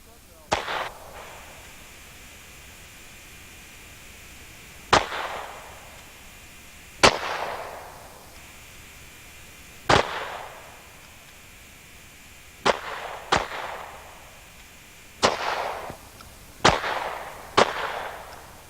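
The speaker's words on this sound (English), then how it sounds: "Pick up your guns and let's see what you can do." Students fire loaded handguns at targets on a shooting range while wearing ear and eye protection. About ten sharp, loud shots ring out at irregular intervals, each trailed by a short echoing decay.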